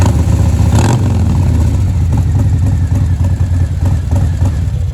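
A 2018 Harley-Davidson Sportster 48 with a 1200cc Evolution engine rumbles loudly up close, a deep steady throb with a brief rev near the start, running alone without speech.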